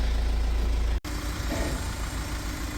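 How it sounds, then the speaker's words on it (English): Vauxhall Vivaro / Renault Trafic van engine idling after half an hour of running, a steady low rumbling drone up close with a brief dropout before the hum resumes. "van's been running for half an hour here, perfect"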